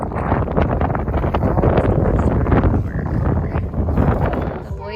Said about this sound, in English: It's so windy outside, we can't play outside.